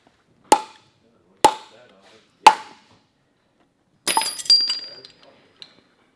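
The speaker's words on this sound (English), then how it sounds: "we're going to put it on our wood and drive the center pins of our rivets into place" A metal punch is hammered against rivet center pins set on a wooden block during a Warn winch install, giving three sharp, evenly spaced metallic strikes followed by a cluster of clinking, rattling knocks.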